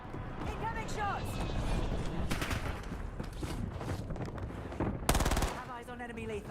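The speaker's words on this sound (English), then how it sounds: "Incoming shots." Gunfire in the video game Call of Duty: Warzone, with rapid automatic bursts and scattered shots over game voice callouts and effects, including a loud close burst near the end.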